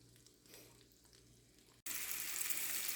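Chicken fried chicken sizzles in a pan, quiet at first. After a sharp break the frying becomes much louder, a steady bright crackle that fills the rest of the short stretch.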